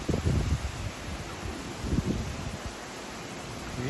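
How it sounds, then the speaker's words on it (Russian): Strong wind and rain outdoors in Tampa during Hurricane Milton: steady broadband rushing noise with low buffeting gusts battering the microphone, loud and continuous, no voices. "Ветер и дождь."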